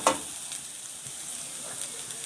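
Potato keema masala frying in a pan gives a soft, steady sizzle with a faint stir at the start, low and even throughout with no talking.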